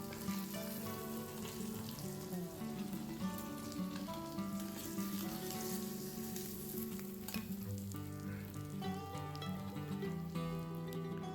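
Pieces of rohu fish frying in hot oil for an Odia fish curry, giving a continuous dense sizzle with crackling pops throughout, close and steady.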